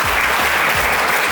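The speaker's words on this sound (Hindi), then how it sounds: "अंशु यादव के लिए तालियां" A lecture-hall audience at a college motivational talk breaks into loud, dense clapping for Anshu Yadav, sustained and even with no voices over it.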